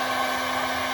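Heat gun drying a thick third coat of Hammerite paint on a race car part, a steady loud blowing roar with a constant motor hum held without a break.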